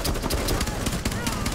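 Rapid gunfire in the tactical shooter Rainbow Six Siege, dense bursts of close, loud shots crackling in quick succession, with a voice shouting over them.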